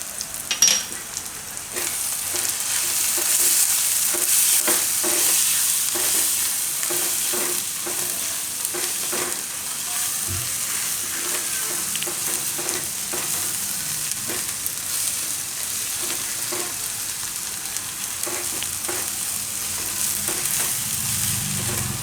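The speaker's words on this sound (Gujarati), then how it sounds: "હવે આપણે આમાં નાખી દેવું ચણાનો લોટ. એટલે ભેગો શેકાઈ જાય." Gram flour and onions roast in a pan for Gujarati sarso nu shaak, giving a steady sizzle with repeated scraping strokes of a spoon stirring, close and without talk.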